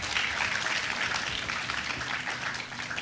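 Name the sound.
applause for the event committee chair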